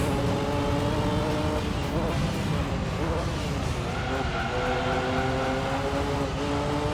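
A car engine in Gran Turismo 3: A-Spec drones loud and steady as gears climb and shift, with pitch rising and falling over a constant roar of road and tire noise, under some talk.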